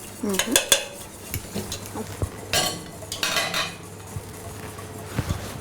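A utensil stirs mashed potato into a mixture, making a close run of clinks, scrapes and soft wet sloshes in irregular bursts, with no talking.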